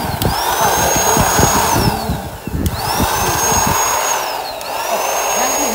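Electric air pump inflating a small 90 by 35 cm inflatable pool, a steady loud motor whine that rises and falls in pitch as the load changes, running continuously throughout.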